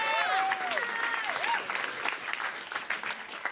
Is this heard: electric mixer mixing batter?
no